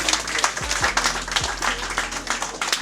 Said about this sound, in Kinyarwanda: ari naco gituma ndabasaba yuko twosubira kandi tukamukomera amashyi menshi